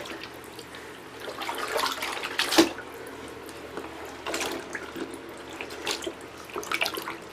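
Hot tap water running into a tub where pants are being soaked for bleaching, a steady splashing stream with sloshing surges and a few louder splashes throughout.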